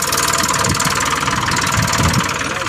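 A tractor used for land leveling idles with a steady, droning engine rumble and faint rhythmic knock, close and continuous, with no talking.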